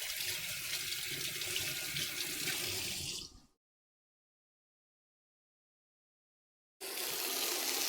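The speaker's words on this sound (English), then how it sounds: "I'm gonna go ahead and give these a quick rinse, and they're gonna go into the cioppino." Tap water runs steadily over fresh garden herbs being rinsed at a sink, a close gushing stream that stops for a few seconds and then starts again.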